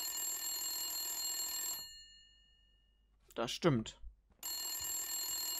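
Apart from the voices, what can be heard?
telephone ringing in the video game Blacksad: Under the Skin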